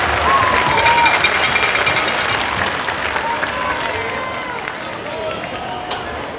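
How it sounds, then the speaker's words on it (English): At a 2023 Cabot High School homecoming ceremony, an audience gives a round of applause for the homecoming ambassadors. Dense clapping and cheers peak at first, then ease into quieter crowd noise with some voices. "Let's give these students a round of applause and congratulate our 2023 Cabot High School"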